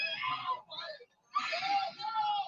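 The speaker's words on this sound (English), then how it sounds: "You hear that somebody screaming." A person screams at a concert, high and strained amid crowd noise, in two bursts with a brief gap between them.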